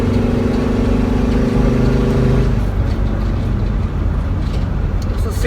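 A Sprinter van engine, recently fixed after a turbo underboost limp-mode fault, accelerates from inside the cab as a loud, steady low rumble and road roar that shifts slightly partway through.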